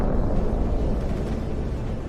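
A destroyed military infantry fighting vehicle explodes in a Ukraine combat setting, giving a loud, sustained roaring blast with a dense low rumble that fills the whole stretch without a break.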